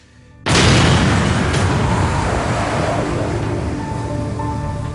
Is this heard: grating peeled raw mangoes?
no